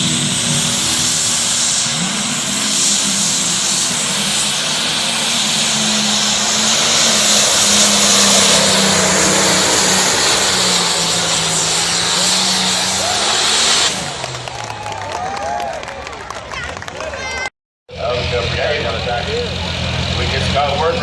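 A pulling tractor driven by a dairy farmer at a truck and tractor pull roars loudly and continuously with a rising, sustained rev, then cuts to a lower, rougher idle after a sudden drop, with crowd and announcer sounds beneath.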